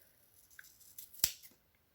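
Scissors snipping straight across hair during a DIY home haircut, a single sharp close cut amid faint quiet handling sounds.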